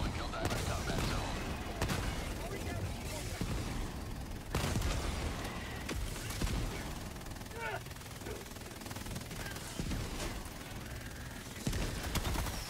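A deployed sentry turret in Helldivers 2 rattling off bursts of automatic gunfire amid explosions and heavy combat noise, loud and continuous, with players talking over it.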